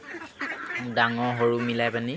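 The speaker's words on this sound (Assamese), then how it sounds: "এতিয়া মোৰ বৰ্তমান হাঁহ 200মান আছে" Ducks on a village duck farm of about two hundred birds quack loudly in a close, overlapping chorus that swells after a moment, while someone talks over them.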